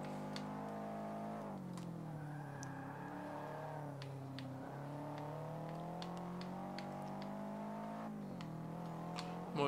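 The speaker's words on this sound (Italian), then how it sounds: "Guarda come fischiano le ruote." Car tires squeal in Forza Motorsport 5 as the engine whines through gear changes, a steady loud tonal drone with shifting pitch and brief sharp squeals throughout, no talking.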